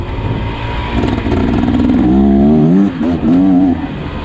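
A 2024 Beta Xtrainer 300 dirt bike ridden hard, its two-stroke engine loud and close, rising and falling in pitch as the throttle opens and closes.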